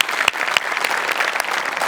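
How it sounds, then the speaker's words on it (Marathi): Loud, dense applause from a studio audience at a Marathi comedy show's staged award ceremony, a steady wash of clapping with a few sharper claps standing out, lasting the whole stretch with no speech over it. "जोरदार टाळ्या."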